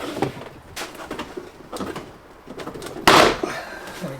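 Scraping and creaking plastic as a Golf GTI door trim panel is pried off with trim pullers, with a loud sharp pop about three seconds in as a panel clip snaps loose.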